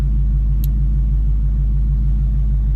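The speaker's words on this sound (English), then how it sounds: "Okay, so the car is running." A Ford Mustang set up with a transbrake and two-step idles close by, a loud, deep, steady rumble with an even low throb and no revving or talking.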